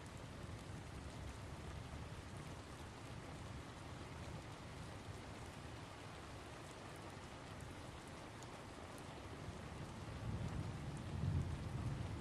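Steady rain falls in a soft, even patter with a faint low rumble swelling briefly toward the end, quiet and continuous with no voices.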